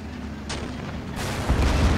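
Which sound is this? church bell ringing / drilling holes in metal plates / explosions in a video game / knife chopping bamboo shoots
explosions in a video game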